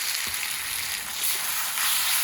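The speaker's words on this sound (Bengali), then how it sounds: "মশলাটাকে একটু ভেজে নেবো।" A spice mix of turmeric and salt fries in hot oil for minced lamb, giving a close, steady sizzle with a few light stirring scrapes and no voices.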